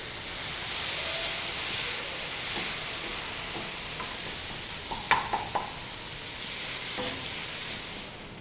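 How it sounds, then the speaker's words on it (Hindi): Tomatoes and green chilies roasting on a tawa griddle, cooked in oil while making tawa fry kaleji, give a steady broadband sizzle with a few sharp clicks and spatula taps near the end, with no talking. "टमाटर को तवे पे 2 से 3 मिनट तक भून लेंगे ताकि ये नरम हो जाएं और गल जाएं।"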